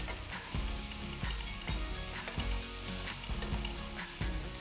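Onions, slit green chilli and curry leaves sauté in a pan for a vegetable kurma, giving a steady close sizzle with rhythmic scrapes of stirring every half second or so, with no voices.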